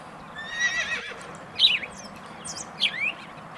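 A horse on a farm lets out a whinny with a wavering high pitch, followed by shorter squealing calls, fairly close over a quiet background.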